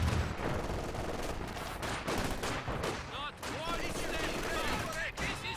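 Maxim machine gun fire in Company of Heroes 2 during a Soviet battle against Oberkommando West, sounding as dense, continuous battlefield gunfire layered with other weapons and effects, with a commentator talking over it.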